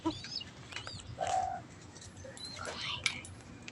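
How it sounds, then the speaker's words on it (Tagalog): Young pigeon squabs coo softly in a backyard loft, faint low murmurs and a few thin chirps over background noise. "Ito yung mga anak ng kalapati ko."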